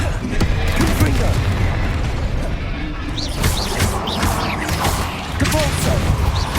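In Hogwarts Legacy, a Confringo explosive spell goes off amid continuous loud combat, with booming blasts and crashes layered under a player's voice for several seconds.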